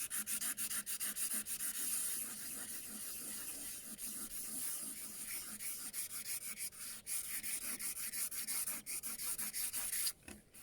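Close, steady sanding of wood, a dry rubbing hiss with rhythmic strokes that continue for about ten seconds before stopping, with no talk.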